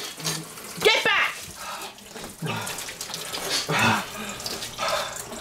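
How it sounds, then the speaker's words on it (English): Tap water runs and splashes in bursts, fairly close and loud, broken by short pauses, while excited voices talk and shout over it. "No, turn the water back! Oh my gosh, the water's turning off!"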